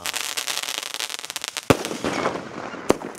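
A rapid crackle of small bursts, then two sharp loud bangs as a Sivakasi sky shot firework explodes overhead, with fizzing in between.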